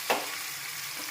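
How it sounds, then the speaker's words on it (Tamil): Sliced ginger and seasonings fry in a pan as a tempering for black kavuni rice pongal: a brief clink or stir at the start, then a faint, steady sizzle with no talking. "சீவி வச்ச இஞ்சி, இது எல்லாத்தையும் போட்டு ஒரு 30 செகண்ட் அப்படி நல்லா ஃப்ரை பண்ணிட்டு"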